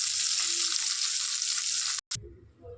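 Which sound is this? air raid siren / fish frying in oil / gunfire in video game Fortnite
fish frying in oil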